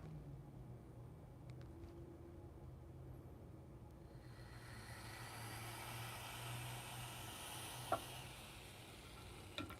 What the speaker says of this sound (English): You're going to hear some sizzling sound.